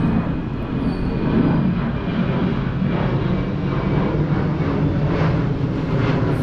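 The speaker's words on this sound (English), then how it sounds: "Every few hours plane flies." An airplane passes over north Dhaka near the international airport, its engine roar a steady, loud broadband rumble that fills the whole stretch without letting up.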